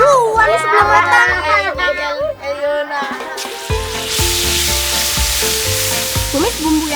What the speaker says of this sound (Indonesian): Tumis bumbu yang sudah halus